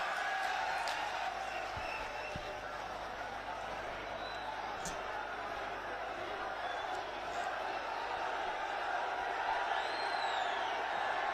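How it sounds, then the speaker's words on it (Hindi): A large outdoor political rally crowd in Badaun, Uttar Pradesh, produces a distant, faint, steady roar of cheering and clapping with scattered whoops. "जोरदार तालियों से स्वागत।"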